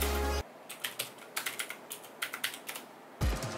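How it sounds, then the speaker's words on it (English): Rapid keystrokes on an Asus ROG Claymore mechanical keyboard with Cherry MX Blue switches, a steady run of sharp clicky presses at close range, bracketed by brief louder handling noise at the start and end. "Cherry MX Blue is comfy to play games and at the same time, improving typing speed, despite it's loud"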